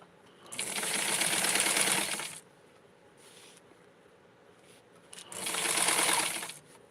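A sewing machine stitching doll socks runs in two loud, steady bursts of rapid whirring, separated by a quiet pause with faint handling clicks.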